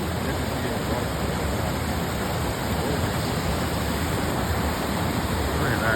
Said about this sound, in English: Look at that raging waterfall right here.